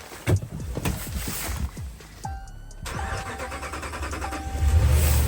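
2022 Ford F350 with no battery fitted, run from a jump starter in 36-degree cold: the starter cranks in a rapid rhythmic churn, then the engine catches and settles into a steady, close idle that grows louder.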